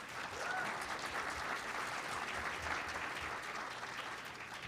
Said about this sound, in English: we should give these guys an applause